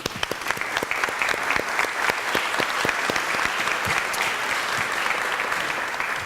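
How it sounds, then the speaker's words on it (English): A crowd at an annual recognition event claps steadily and enthusiastically, a dense continuous round of applause with no voices. "we salute you and give you a round of applause"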